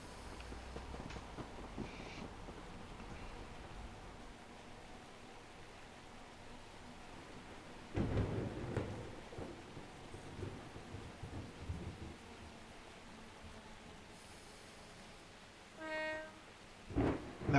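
Steady rain falls over a railway scene in a train simulator game with an enhanced weather pack, broad hiss throughout with a deep thunder rumble midway and a few brief mechanical rattles near the end.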